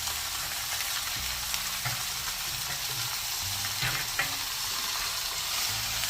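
Chicken pieces hitting a pan of frying onions, giving a steady, close sizzle with occasional stirring scrapes and clatter, no voices.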